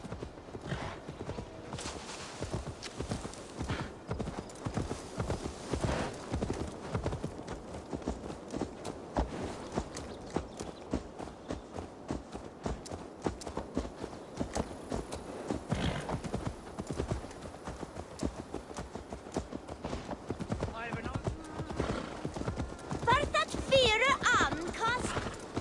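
A horse's hooves clip-clop steadily through Assassin's Creed Valhalla, with a dense run of hoofbeats kept up the whole way through. Game ambience and speech sit over the hooves, and a whinny may come in near the end.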